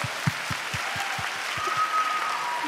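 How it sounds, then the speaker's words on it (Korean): A small group claps steadily for a couple of seconds, moderately loud in a church hall during a Bible recitation contest. "격려의 박수 한번 부탁드릴게요"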